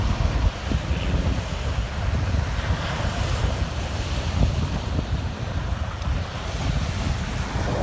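Steady ocean surf and strong wind on Biloxi beach, Mississippi, a constant loud roar of breaking waves mixed with heavy wind buffeting against the microphone, with no speech.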